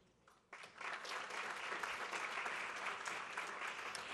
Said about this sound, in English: a round of applause for Stuart